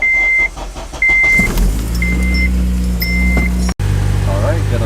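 A six-speed manual car is started and left idling. Repeated chime beeps are followed by the engine catching, then a steady low idle with a brief dropout, while a voice talks faintly underneath.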